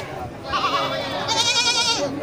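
A male goat at an animal market in Grogol gives a loud, wavering bleat close by, a single drawn-out call over crowd murmur.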